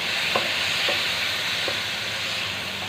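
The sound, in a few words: stirring adobong sitaw after adding soy sauce and vinegar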